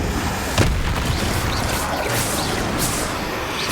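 The Incendio fire spell in Hogwarts Legacy goes off with a loud, broad whooshing burst and a thump near the start, followed by a dense, sustained crackling rush of noise.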